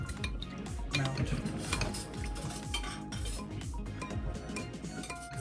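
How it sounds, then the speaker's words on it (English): A spoon clinks and scrapes steadily against a bowl while stirring potato starch into liquid, a quick repetitive rhythm close by with no talking. "Add 2 tablespoons of potato starch to it, and then mix it."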